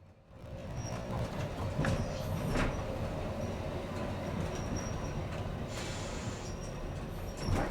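A heritage Wellington tram rolls steadily into a beach terminus, its rumbling wheels and rail noise running continuously throughout, with a few brief metallic squeals and clunks rising above the rumble near the start and toward the end.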